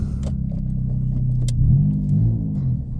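A Chevrolet Celta accelerates along a road, its engine a low steady drone that swells a little as it pulls, heard from inside the car with no talking.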